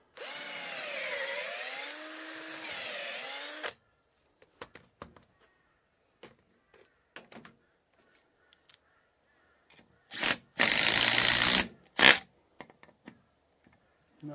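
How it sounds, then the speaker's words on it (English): A cordless impact driver fastening a faceplate to a hickory wood bowl blank whirs loudly for a few seconds, followed by scattered clicks and handling noises, then two more short, loud bursts of driving. "back with a impact driver that's got a bit more battery charge"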